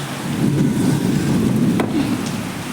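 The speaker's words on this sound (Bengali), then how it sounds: "প্রচুর বৃষ্টি হচ্ছে" Heavy rain roars steadily nearby, a dense low rumbling wash of falling water with a few sharper splashes.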